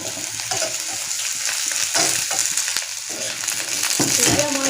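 Onions frying and being stirred in a pan as the colour starts to change, a steady close sizzle broken up by scraping and stirring strokes, with no talk.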